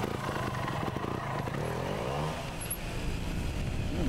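A trials motorcycle engine revs as the rider pops a small wheelie into an outdoor section, a rough steady drone with a rising pitch sweep partway through, moderately close.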